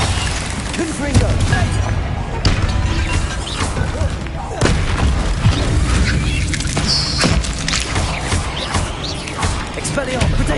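Confringo blasting-spell explosions in Hogwarts Legacy land as repeated heavy booms and bursts over a busy, loud game mix, with a voice heard intermittently.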